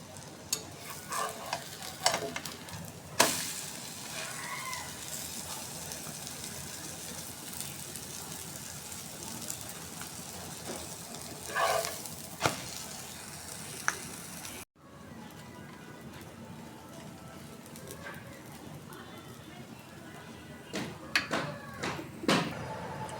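Malabar spinach and egg fritters fry in a pan with a continuous soft sizzle, broken by occasional louder scrapes and stirring clatters from a utensil, fairly quiet and close.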